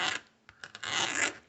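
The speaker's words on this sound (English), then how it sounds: "That's my floor squeaking." Wooden floor squeaking indoors: a long creaking groan, a few short squeaks, then another drawn-out creak, close and fairly loud, with no talk over it.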